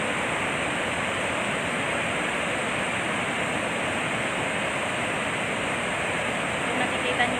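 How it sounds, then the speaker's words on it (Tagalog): A powerful, continuous rush of water roars steadily from the Magat Dam spillway releasing a strong flow during Typhoon Ulysses, a dense broadband torrent, loud and unbroken throughout. "Ngayon, mas malakas na naman yung pagpapakawala ng tubig."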